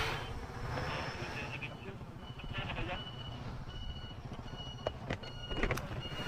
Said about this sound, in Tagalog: Yun, may sasakyan sa gilid.